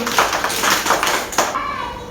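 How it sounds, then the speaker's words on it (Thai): A class of children claps for themselves, giving a dense, ragged patter of many small hands that fades over about two seconds, with a little talk mixed in. "เอาปรบมือให้ตัวเองหน่อยทุกคนเลย"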